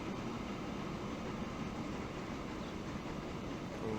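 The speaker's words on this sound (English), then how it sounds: "our incredibly quick freight train there been held for a passenger train going past at I mean what, 37 miles an hour" A passenger train rolls past in Transport Fever 2, a steady, continuous rumble and rail noise holding at a constant level throughout, with no voices over it.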